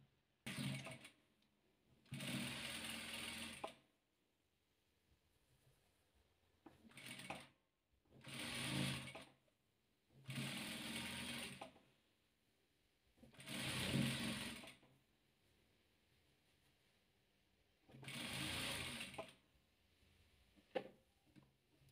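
A sewing machine stitches patchwork rows together in about seven steady whirring runs of a second or two each, close and clear, separated by short quiet pauses.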